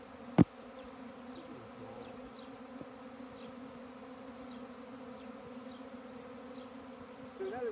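Swarm of honeybees buzzing steadily during a hive removal, a dense droning hum that holds constant, with a brief knock near the start and a light clatter at the end.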